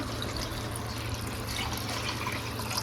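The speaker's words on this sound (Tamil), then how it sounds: "ஸோ இதுக்கும் தண்ணி ஆட் பண்ணிக்கலாம்" Water pours steadily into a pot of mutton curry cooking on the stove, a continuous close splashing, filling rush with no talk over it.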